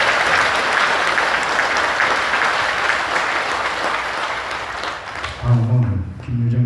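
Audience applause fills a Buddhist temple hall after a monk's dharma lecture, steady dense clapping for about five seconds before it fades, then a voice briefly speaks.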